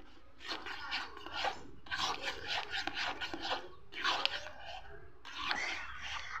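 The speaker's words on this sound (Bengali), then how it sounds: "এটা দিয়ে আমি আবার একটু ভালো করে নেড়ে চেড়ে নিলাম।" A spoon scrapes and rasps through a raw green mango mixture with sugar and salt, stirred in bursts of gritty rubbing with short pauses between, close and moderately loud.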